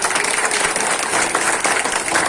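Loud, dense applause from an audience at the grand opening ceremony of a pyramid meditation centre, a steady wash of many hands clapping without pause.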